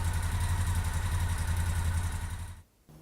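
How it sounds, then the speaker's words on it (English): A Moto Guzzi Breva 750 motorcycle engine idles close by with a steady low throbbing pulse, then cuts off abruptly near the end, leaving a brief quiet gap before a faint low hum returns. "Now start the engine and make sure that the oil light goes off."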